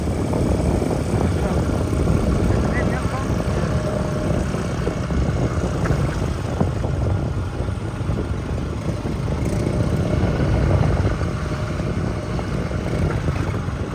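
A drone flies overhead near a main bridge, its steady whirring engine-like drone continuous and fairly loud across the whole stretch, mixed with outdoor background noise.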